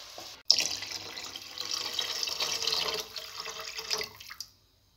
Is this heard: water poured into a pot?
yes